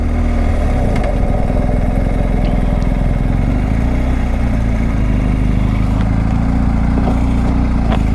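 A motorcycle engine runs after a ride in Kildare. Its loud, steady, close-up rumble is unbroken throughout, with faint ticking on top.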